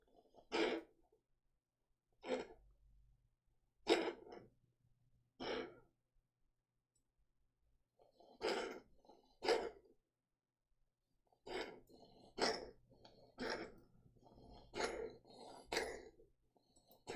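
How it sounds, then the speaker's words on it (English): A cat coughs in a quiet room, a series of short, sharp hacking bursts in uneven clusters, fairly close and otherwise alone. "my cat's coughing all over the place"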